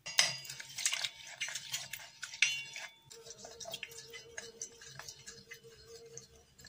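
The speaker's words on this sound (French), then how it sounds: "On ajoute un peu d'eau et on mélange bien." Crushed spices with salt and cumin are mixed with a little water, giving quick clinks and scrapes of utensil on a dish, brisk and close at first, then softer, sparser tapping.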